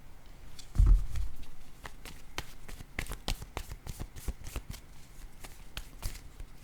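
A deck of tarot cards shuffled and handled close up, a soft thump and then a steady run of quick papery riffles and flicks as cards are drawn.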